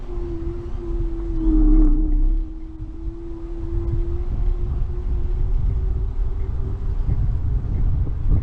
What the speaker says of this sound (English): I can hear traffic at Main Road.